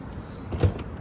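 A 2020 Tesla Model 3 Performance door opens, its frameless window dropping slightly with a short, soft motor whir and a muffled click near the middle, heard close and alone.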